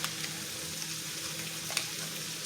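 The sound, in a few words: lamb frying in butter and oil in a pan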